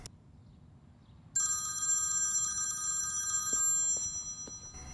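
A telephone bell rings at night in a quiet indoor room, a steady electronic trill starting abruptly and continuing for a few seconds, with a couple of soft knocks near the end.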